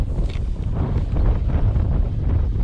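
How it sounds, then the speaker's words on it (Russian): Steady gusting cold north wind buffets the microphone, a dense low rumble with no voices. "погода, улет, ветер северный, холодный"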